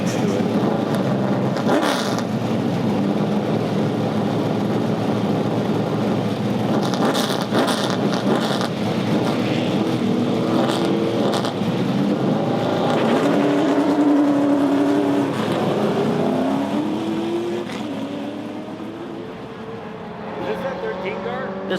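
The number 13 NASCAR Super Late Model race car roars on track, engine noise sweeping and revving with passing cars and wind buffeting, while people talk over the steady motor din.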